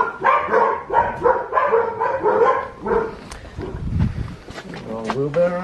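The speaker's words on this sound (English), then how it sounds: "Oh, damn, those barking dogs." Several dogs bark in quick repeated bursts near a workshop, loud and close, then break off as people talk briefly at the end.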